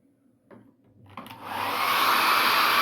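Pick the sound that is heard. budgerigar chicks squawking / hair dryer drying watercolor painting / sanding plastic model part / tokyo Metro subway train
hair dryer drying watercolor painting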